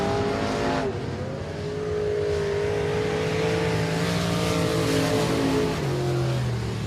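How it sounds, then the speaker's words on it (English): A race car at a speedway time trial runs continuously and loudly throughout, its engine note holding a steady high pitch with slight rises as it works around the track. "arcus Black as well out of Lumberton, Texas, on the speedway in car number 75."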